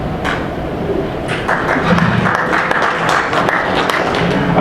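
A crowd at a company summer meeting applauds with steady clapping that swells slightly partway through, with a few murmuring voices underneath.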